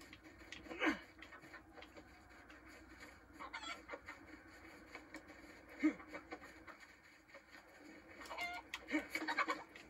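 Chicken clucking in the DayZ survival game, several short bursts scattered across a faint, noisy background with quiet pauses between calls.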